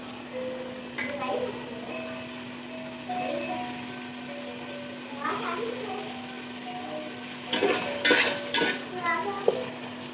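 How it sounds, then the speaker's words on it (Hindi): Spoon stirring and mashing tomatoes in a pot while cooking beef yakhni pulao, with soft scraping and clinks over a faint steady sizzle, a few sharper metallic knocks near the end, and a voice speaking intermittently in the background. "तो जो टमाटर रह गए उसको चम्मच की मदद से हम कर लेंगे अच्छी तरह"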